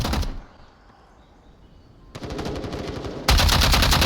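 Two bursts of rapid gunfire in the VR game Echo VR (VRML scrim), loud and close, separated by a quieter stretch, the second burst louder and denser than the first.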